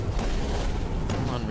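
Rapid gunfire in a found-footage shooter game, a dense continuous volley filling the whole stretch with booming low end, while players talk over it.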